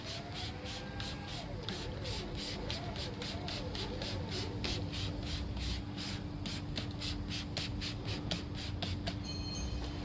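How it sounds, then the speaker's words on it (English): Brush scrubbing the tyres of a BMW M5 with wheel cleaner during a detail, a steady rhythmic scrubbing of repeated bristle strokes running continuously and close over a constant background hum. "So we'll start off by scrubbing the tyres."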